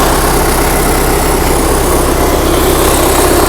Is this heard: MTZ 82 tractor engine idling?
yes